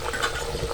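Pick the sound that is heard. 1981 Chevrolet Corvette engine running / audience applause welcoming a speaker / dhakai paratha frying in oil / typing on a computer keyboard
dhakai paratha frying in oil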